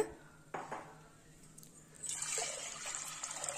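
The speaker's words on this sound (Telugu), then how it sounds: "ఇప్పుడు సరిపడా ఎసురు వేస్తున్నాను" Hot water is poured into a cooking pot for pongal, a steady splashing hiss that starts partway through after a few soft kitchen clatters and continues to the end, fairly close.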